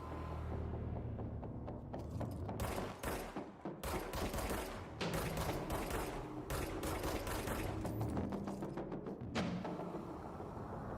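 Dense rapid gunfire and blasts come from the video game Control, where a grenade launcher is firing, heard as a continuous chaotic barrage of sharp hits over a rumbling bed with no talking.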